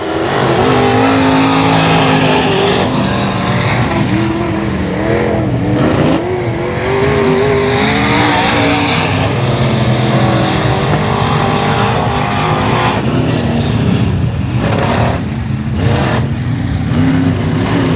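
Race cars lapping at 281 Speedway during a Big Chill event, a loud, continuous roar of multiple engines droning and surging as the pack passes close by.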